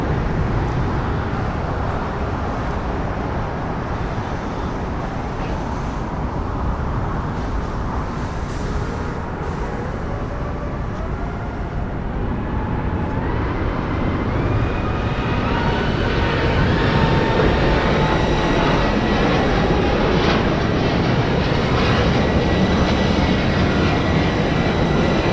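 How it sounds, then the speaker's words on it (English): Norse airliner on its takeoff roll down runway 25 right at LAX, bound for Rome: a steady jet roar with a rising whine that swells louder over the run, heard from a distance without talk. "we got Norse now rolling down at 25 right."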